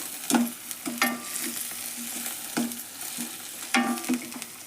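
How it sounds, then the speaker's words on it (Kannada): Garam masala and spices fry in oil under a soft steady sizzle while a spoon scrapes and knocks against the pan in irregular strokes, close by with no voices. "ಎಲ್ಲ ಮಿಕ್ಸ್ ಮಾಡ್ಬೇಕು ನೋಡ್ರಿ ಎಣ್ಣೆ ಒಳಗೆ ಚಲೋ ತಂಗ"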